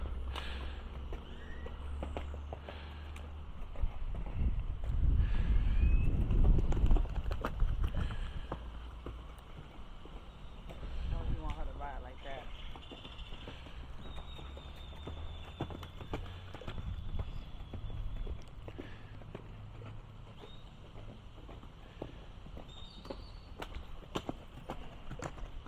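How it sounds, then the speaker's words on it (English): A horse's hooves clip-clop along a street at a steady walking pace, the steps growing louder as the animal passes close, then continuing more softly amid outdoor ambience. "Beautiful horse."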